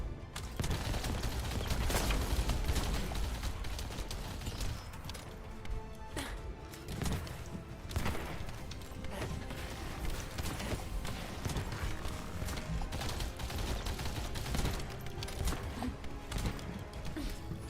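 Rapid, dense gunfire from the player's guns in The First Descendant, a sci-fi shooter game, crackling in near-continuous bursts for the whole stretch with loud, sharp shots throughout.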